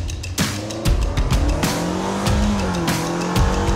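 A Vanderhall Venice three-wheeled autocycle's engine revs and roars up close while driving, with rising and falling pitch and sharp noisy bursts, no talking.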